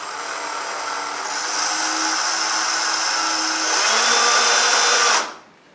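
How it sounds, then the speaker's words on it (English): Power drill boring slowly through a kitchen cabinet door for a handle, one steady whine that builds slightly louder before cutting off abruptly, close and alone. "And we're going to drill nice and easy."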